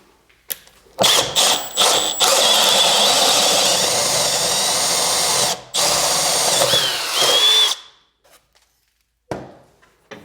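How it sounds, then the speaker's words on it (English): A power drill boring a hole through plywood for a 5/8 inch poplar dowel: a few short trigger bursts, then a loud, sustained whine with one brief pause, stopping abruptly near the end, heard up close with no talking. "we got to put a hole in here to feed this 5/8 inch poplar dowel through"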